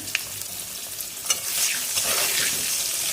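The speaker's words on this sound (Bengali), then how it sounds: "লাল লাল করে ভেজে নেবো আলুগুলো।" Cut potatoes fry with a little salt in oil in a pan that was just used for hilsa fish. They give a close, steady sizzle with a few sharp pops and stirring scrapes, with no talking.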